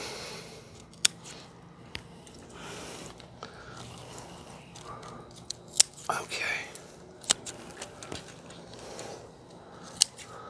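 Sharp pruning snips cut through a vanilla plant stem, several crisp clicks spread across the stretch, with soft close-up rustling and quiet talk in between.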